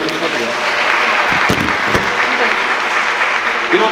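Wedding guests applaud in congratulation during the main ceremony, a loud, steady roar of many hands clapping close by with a few sharper claps standing out.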